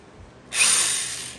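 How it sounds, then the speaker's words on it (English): An electric drill whirs into a rare Edison box fan during a repair of its slipping blades, a single close, loud burst of under a second that starts abruptly and fades as it stops. "drilling into something on the fan"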